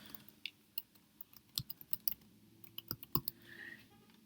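Fingers type on a computer keyboard while entering a word into an Excel spreadsheet, giving quiet, close, irregular key clicks in short bursts with no speech.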